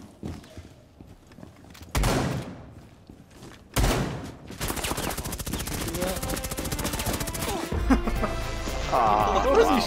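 Gunfire in the video game Rainbow Six Siege. Loud sudden shots and bursts of rapid automatic fire rattle in fits and starts, with thuds between them, and players talk over the action.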